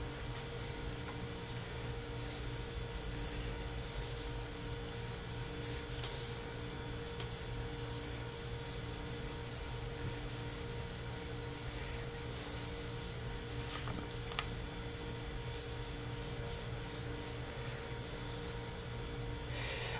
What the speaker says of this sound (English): you really need to rub it into the surface.